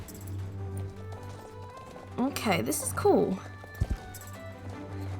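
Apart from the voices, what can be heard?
horse hooves clip-clopping in Star Stable Online video game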